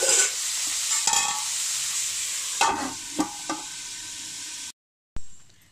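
Ivy gourd pieces with turmeric are stirred in a sizzling pan, a spatula scraping and clinking against the metal several times over a steady frying hiss. The sound drops out briefly near the end, then the sizzle resumes.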